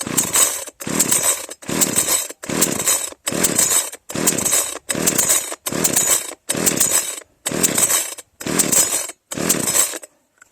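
The starter cord of a cheap petrol chainsaw is yanked again and again, about a dozen sharp ripping pulls in a steady rhythm, each followed by a short pause, and the engine never catches.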